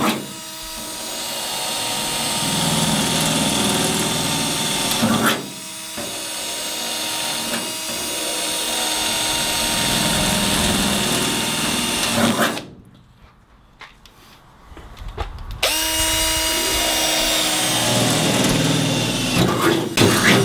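A jigsaw cuts through the sheet metal body of a VW Crafter van for a rear window install, a loud, close, buzzing rasp that runs in long stretches, pausing briefly around a third of the way and going quiet for a few seconds before cutting resumes.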